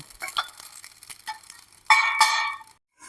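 Garden cress seeds pop and crackle as they dry roast in a pan, giving scattered light ticks followed by a louder, denser burst of crackling near the end.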